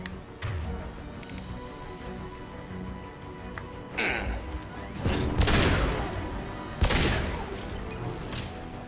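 Gunfire in the video game Mass Effect 2: bursts of weapon shots with booms and crashing impacts, building to heavier rapid volleys in the second half.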